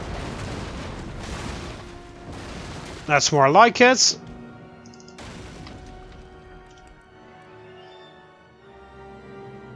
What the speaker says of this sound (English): their front cannons actually fired this time